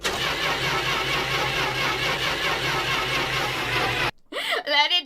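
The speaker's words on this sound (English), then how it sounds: "All we had left to do was turn the key and start the car." A car in My Winter Car cranks on the key turn, a sustained mechanical whirr lasting about four seconds, then cutting out abruptly into brief, uneven noises.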